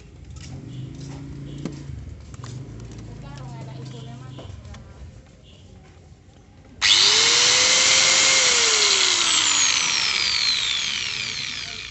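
A Stanley STGS 5100 4-inch angle grinder spins up sharply and whines loudly and steadily, its pitch rising then easing, after a stretch of clattering handling noises.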